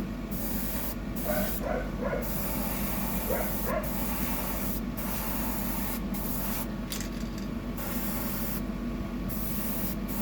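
Undercoat paint sprays onto a bibless fishing lure in a continuous loud hiss with a few short pauses, plus faint barking somewhere in the background.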